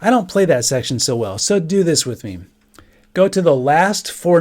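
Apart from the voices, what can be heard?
None of the usual background noises is heard.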